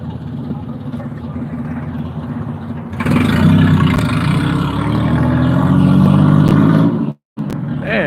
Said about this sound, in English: Man, that engine is really, really loud.